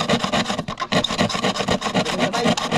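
A hand saw cuts through wood in steady back-and-forth rasping strokes, loud and close, with a brief pause near the start before the rhythmic sawing resumes.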